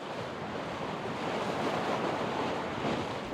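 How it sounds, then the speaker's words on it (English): A sailboat under way on a cold, sunny sea over the Koster Trench, a continuous rush of waves and water against the hull with gusting wind noise on the microphone, close and steady, with no voices. "So it's really quite nice sailing now, and the sun is out."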